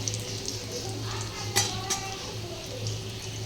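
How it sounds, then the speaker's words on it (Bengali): Fritters made from pointed gourd leaves fry gently in oil over a low gas flame, a soft steady sizzle with a few metal utensil clinks and stirring scrapes. "আস্তে আস্তে নরম আস্তে গ্যাসে ভেজে নেব"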